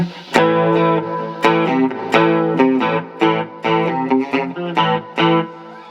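A Marshall MG15CFX guitar amp with gain and volume turned up, playing loud distorted electric guitar in choppy strummed chords with sharp attacks and short pauses, no voice over it.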